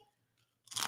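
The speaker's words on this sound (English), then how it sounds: "Can y'all hear the crunch?" A single sharp crunch comes as someone bites into crispy fried breadfruit, close and loud after a near-silent moment.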